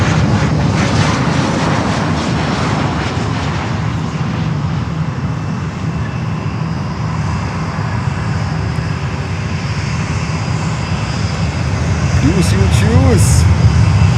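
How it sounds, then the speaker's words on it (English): A JetBlue airliner at Fort Lauderdale airport rumbles with a loud, steady engine roar that swells slightly toward the end, heard from fairly close. "let's see the details of this JetBlue here"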